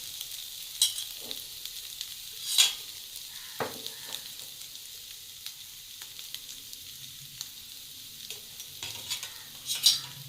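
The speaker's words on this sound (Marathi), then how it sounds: "आता हे आपण चांगलं परतून घेऊया." Medium-cut vegetables for a fasting thali are sautéed in a pan, a quiet sizzle under intermittent stirring scrapes and occasional sharper clicks of the spoon, close and fairly faint.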